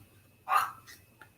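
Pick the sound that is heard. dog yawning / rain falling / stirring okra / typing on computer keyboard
dog yawning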